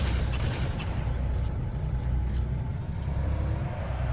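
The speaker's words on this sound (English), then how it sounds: "Death by cannon." Cannon fire from the Halo: Combat Evolved video game booms beneath a dense, continuous rumble of in-game battle noise, with sharp blasts sounding repeatedly across the scene.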